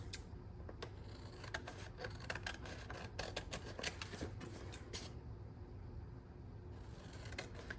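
Scissors or a paper trimmer cut through cardstock during a stamping craft project, giving a close series of quick snips and scraping rubs with short pauses between.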